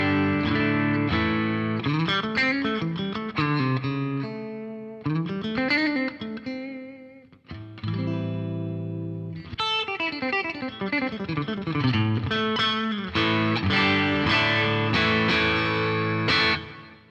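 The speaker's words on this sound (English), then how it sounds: "So here's the sound of the guitar plugged into my matchless Independence 35 with the Angry Driver" Electric guitar played clean through a Matchless Independence 35 amp with the drive pedal switched off, ringing chords and arpeggiated phrases in several bursts with short pauses, bright and sustained with some room reverb.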